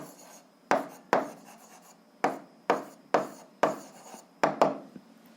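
A pen writes out the answer to a seventh-grade algebra problem on relative motion. Eight or so sharp, close scratching strokes come in an uneven rhythm with short pauses, and no voice is heard.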